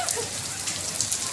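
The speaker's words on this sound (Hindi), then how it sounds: "साथ ओले, साथ बारिश, साथ ठंड हवा।" Rain mixed with hail pours down steadily outdoors on an afternoon that turned cold and windy, a dense, constant hiss and patter of drops and icy pellets striking surfaces close by.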